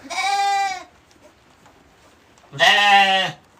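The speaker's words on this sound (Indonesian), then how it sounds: "Ini domba-dombanya ya." Two loud, close bleats from sheep on a farm, one at the start and another after a quiet pause, each lasting under a second.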